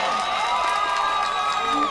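Audience applause and cheering at an Urdu mushaira poetry gathering, a dense sustained wash of clapping and crowd noise at steady loudness with a faint voice in the mix.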